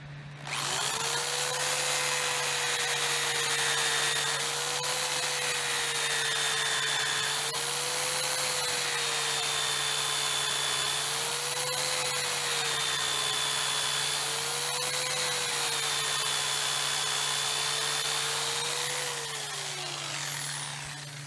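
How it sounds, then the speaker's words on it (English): A power drill whines steadily as it bores into wood, its motor pitch dipping and rising in rhythmic waves under load, close and loud throughout. "Keeps your bit straight, and you drill a straight hole."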